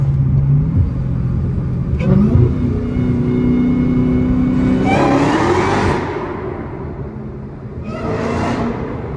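A Dodge Hellcat with its hood off revs inside a tunnel, its supercharger whine rising and falling in loud, close sweeps over a deep engine rumble, two strong pulls echoing off the walls.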